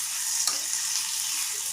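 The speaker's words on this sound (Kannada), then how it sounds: "ಸೊ ಅದನ್ನು ಸಹ ನಾನು ಇವಾಗ ಚೆನ್ನಾಗಿ ಫ್ರೈ ಮಾಡ್ಕೊಳ್ಬೇಕಾಗುತ್ತೆ." Sliced boiled eggs fry in hot oil in a pan for Indian egg bhurji masala, a steady close sizzle with a brief scrape of stirring, no voices.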